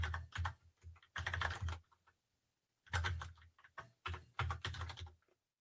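Typing on a computer keyboard comes in quick bursts of close, crisp clicks separated by short pauses, with no talking over it.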